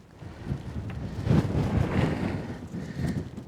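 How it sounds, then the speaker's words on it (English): Strong wind buffets the microphone outdoors on a mountain trail, gusting in uneven surges that peak midway, with no voices present. "Boy, it's windy"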